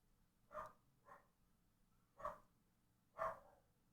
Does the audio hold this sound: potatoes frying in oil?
no